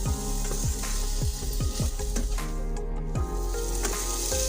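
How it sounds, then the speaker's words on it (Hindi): Potatoes frying lightly in a pan with turmeric and salt give a steady close sizzle, with a string of sharp scraping stirs at a regular rhythm. "नमक और हल्दी डाल करके बस इसे हल्की सी फ्राई कर लेती हूँ।"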